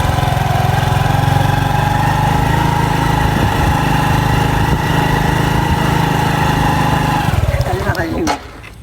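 A motorbike engine runs at a steady idle, close and loud, then revs and cuts off near the end, with people talking over it.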